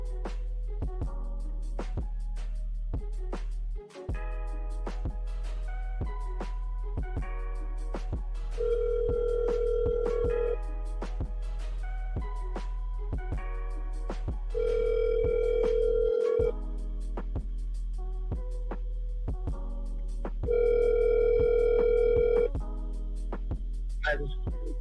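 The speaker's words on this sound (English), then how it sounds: "So, Jag, you better be glad nobody's answering this damn phone." A phone call rings out unanswered, with repeated long ringback tones sounding in a steady cycle over a constant low hum, while faint voices or line noise sit underneath.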